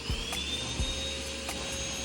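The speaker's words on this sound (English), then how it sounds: "I've just been scraping all this foam off and vacuuming it up with my little shop vac." A small shop vac runs steadily, sucking up foam scraped from a BMW E36 headliner, its constant whine and motor drone filling the space with a few soft thumps of debris.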